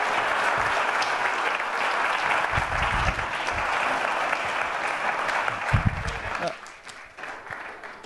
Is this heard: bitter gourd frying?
no